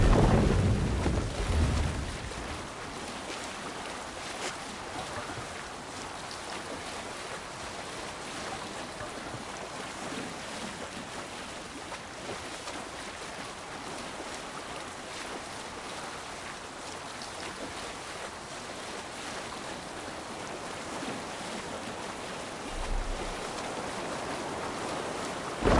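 A sailing ship moves through open sea in the Assassin's Creed Valhalla video game, with a constant broad rush of wind and surging waves, a loud gust at the start and a low thud near the end.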